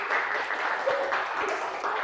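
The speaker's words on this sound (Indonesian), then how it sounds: "tepuk tangan ya" Students in a classroom clap for a classmate after a correct answer, a brief steady patter of hands at moderate distance with no talk over it.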